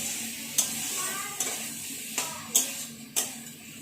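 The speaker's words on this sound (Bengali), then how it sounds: "মাছের মাথাটা নুন হলুদ মাখিয়ে ভেজে নিই ভেজে নেওয়ার পর এতে এটাতে ফোড়ন দিয়েছি" A fish head coated in salt and turmeric fries in hot oil in a home kitchen, giving a steady sizzle broken by about five sharp spits and pops. Faint voices can be heard in the background.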